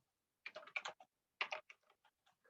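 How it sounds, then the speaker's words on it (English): Typing on a computer keyboard comes in short bursts of quick, light key clicks at close range, with pauses between the bursts and no talking. "typing"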